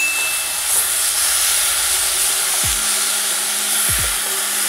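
Boiled taro leaves hit a hot pan with a steady, loud hiss of steam and sizzle that fills the whole clip, with a couple of low thuds from stirring and no voices.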